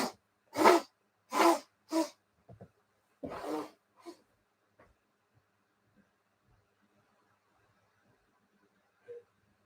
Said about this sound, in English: I'll have to blow my nose.